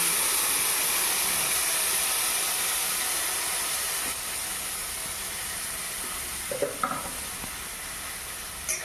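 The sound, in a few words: marinated raw fish sizzling in a wok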